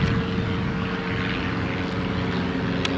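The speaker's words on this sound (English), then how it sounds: "As we got airplanes overhead." Propeller airplanes fly overhead near an airport, giving a loud, steady engine drone with a constant low hum that holds throughout, with no speech.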